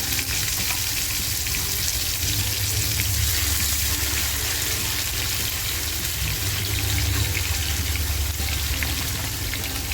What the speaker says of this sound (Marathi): ही सुरमई आपल्याला जास्त फ्राय नाही करायची अगदी अर्धवट फ्राय करून घ्यायची